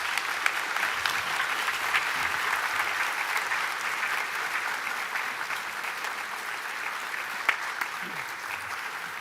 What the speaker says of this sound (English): please applaud your families